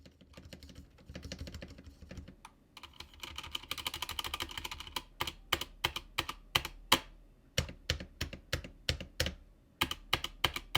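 Typing on a V84 Pro mechanical keyboard with hot-swap switches: a fast flurry of close keystrokes, then slower distinct clacks, some heavier like a spacebar, with no talking.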